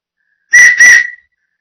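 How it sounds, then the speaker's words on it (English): A coach's whistle blown twice in quick succession, two loud, close, shrill blasts separated by a brief gap, heard alone with no talk. "when I blow the whistle twice, I want you to sit back down"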